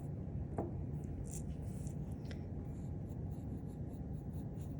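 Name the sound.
erasing a pencil line on paper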